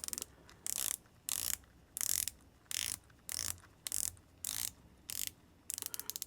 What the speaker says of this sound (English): It is a unidirectional 24-hour bezel that sounds really good.